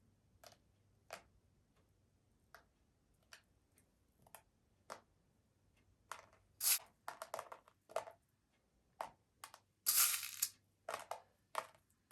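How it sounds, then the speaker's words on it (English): Crushed glass is sprinkled onto Elmer's glue for a DIY bling painting, heard as sparse, crisp ticks and short gritty crunches, growing denser and louder partway through, close and quiet with no speech. "trying to make my crushed glass here land on the glue."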